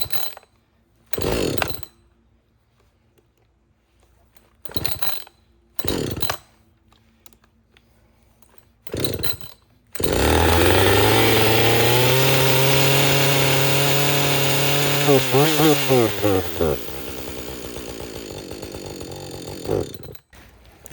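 Husqvarna 562XP chainsaw with a fault: short separate pulls or blips, then a loud, steady fast idle that holds for about seven seconds, wavers, and drops away near the end. Nobody speaks.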